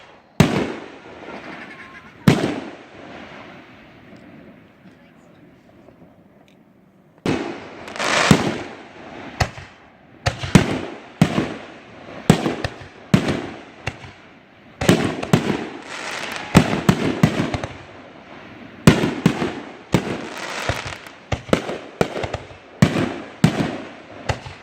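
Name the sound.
fireworks exploding at a private fireworks show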